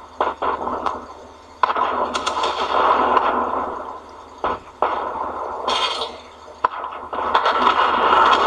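Tank cannon fire in the video game World of Tanks: several sharp, loud shots at irregular intervals over a steady rumbling battle backdrop.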